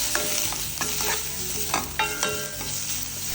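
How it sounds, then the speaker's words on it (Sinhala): Chilli, turmeric and salt powders are stirred through frying oil for a one-pot chicken rice, with repeated metallic scrapes and taps of a spoon against the pot over a bright, steady sizzle, no talking. "මේ වගේ ආයෙත් තෙල් එකේ හොඳින් කලවම් කරගන්නවා"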